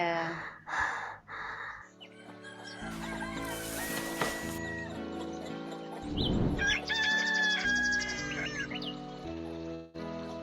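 Bird calls from an animated cartoon, including a rooster-like crow and clucking, play over a busy musical soundtrack with brief voices, the calls bright and fairly loud.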